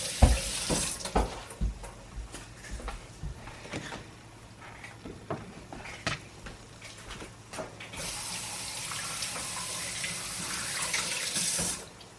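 Tap water runs into a sink while seeds are rinsed out of a cut vegetable, splashing and gurgling close by with uneven bursts, then settling into a steadier stream near the end.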